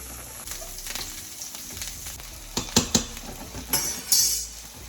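Onions frying in a pan, a soft background sizzle broken by a few sharp clinks and scrapes of a utensil against the cookware, close and moderately loud.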